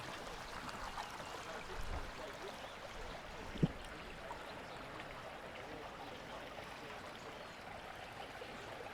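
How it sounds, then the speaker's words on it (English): Steady broadband rush of the fast-flowing Whanganui River, continuous and moderately close, with one brief knock partway through and no talking. "This river is moving at a fair clip."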